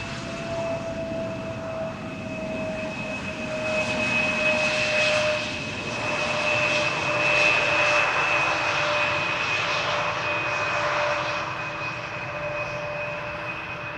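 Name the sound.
airliner landing at Amsterdam Schiphol without reverse thrust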